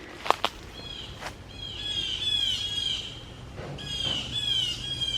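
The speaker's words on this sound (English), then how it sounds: "Wow, the Carolina wren." A Carolina wren gives harsh, repeated scolding alarm calls at a black snake in the woods. The rasping chatter comes in two drawn-out bursts, moderately close, and a couple of sharp clicks or knocks come just before them.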